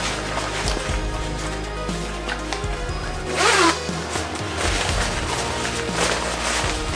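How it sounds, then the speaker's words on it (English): The front zip of a Supreme Gore-Tex Paclite jacket drawn once, a short close rasp standing out over continuous background noise, with no talking. "We have a Velcro and zip front, along with a button at the base."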